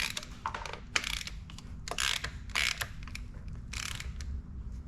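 A hand ratchet works a stud loose from a factory RB25 intake manifold on a C33 Laurel, giving bursts of quick clicking with short pauses, close and fairly quiet over a low background hum.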